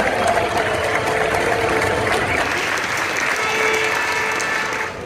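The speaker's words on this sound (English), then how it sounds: "can you please have a round of applause and thank the legend" Crowd at a Penrith Panthers open training session in grand final week applauding rugby league figure Greg Alexander, a loud sustained wash of clapping and cheering from a large outdoor gathering, tapering slightly at the end.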